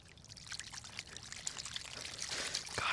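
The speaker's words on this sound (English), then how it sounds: "there's a little stream of water over here. I'll just clean them in there." Muddy hands rinse in a small, cold outdoor stream, with close splashing and trickling water that grows louder toward the end, and no talk.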